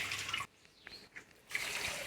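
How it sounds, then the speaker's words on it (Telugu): Water is poured onto washed rice set aside to soak, a soft, close trickling and splashing that pauses briefly before flowing again. "ఇప్పుడు మనం వాటర్ పోసుకొని పక్కన పెట్టేసుకుందాం."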